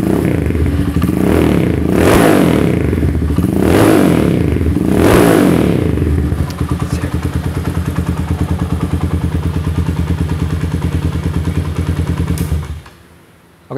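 A Honda CB100 motorcycle engine with a stock Tiger exhaust revs up three times in loud surging swells, then settles into a steady, throbbing idle before cutting off abruptly near the end.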